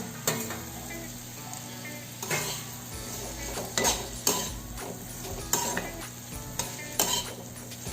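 Okra (bhindi) frying in oil in a pan, a steady close sizzle broken by repeated scraping and clinking of a spatula stirring against the pan.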